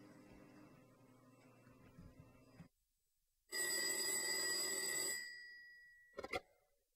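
Telephone ringing in the Shenmue video game: after quiet game ambience and a short silence, a loud, bright electronic ring sounds for about a second and a half, then stops, followed by a brief soft click.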